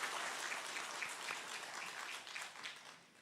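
A church congregation applauds steadily at an ordination and retirement ceremony, with dense clapping that fades slightly toward the end.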